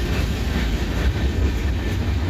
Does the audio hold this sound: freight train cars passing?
yes